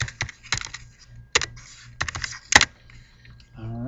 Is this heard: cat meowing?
no